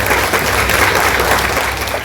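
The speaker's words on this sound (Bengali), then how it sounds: "প্রত্যেকে একটু হাততালি দেবেন" Dense, steady clapping from a crowd at a Congress party joining ceremony in Malda, where a youth Trinamool leader is welcomed, filling two seconds at an even, loud level with no talk.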